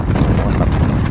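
Strong wind buffets the microphone on a train crossing the Pa Sak Jolasid Dam in Thailand, a loud, rumbling, continuous roar with low-end gusting and no voices.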